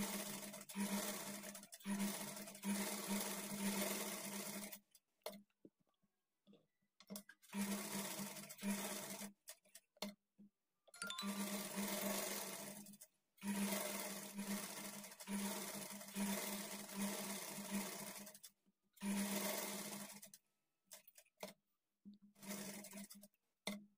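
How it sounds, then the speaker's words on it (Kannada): A sewing machine stitches lining into a blouse in repeated bursts of fast, even needle chatter with a low motor hum, each run lasting a few seconds and broken by silent pauses while the fabric is repositioned. "ಅದಕ್ಕೋಸ್ಕರ ಸೊಂಟದ ಕಡೆಯಿಂದನೇ ಸ್ಟಿಚ್ ಮಾಡ್ಕೊಳ್ತಾ ಬನ್ನಿ."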